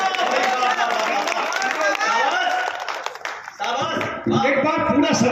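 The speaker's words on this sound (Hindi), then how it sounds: "एक बार पूरा सदन जोरदार तालियों से स्वागत करें सुबह का।" Audience at a comedy poetry gathering in Amethi clapping in a dense burst of applause with voices and chatter mixed in, then giving way to a speaking voice.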